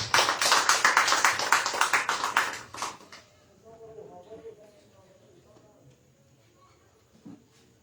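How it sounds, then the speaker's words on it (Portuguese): A church congregation at an evening worship service claps for Jesus, a loud burst of many hands in quick rhythm that fades after about three seconds, leaving quiet murmurs and faint room sounds. "E se vocês jogam palmas para Jesus."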